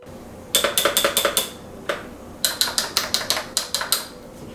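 A brand-new wireless keyboard and mouse being handled, giving quick bursts of crisp plastic clicks and clacks in two rapid clusters separated by a short pause, close and clear with no talking.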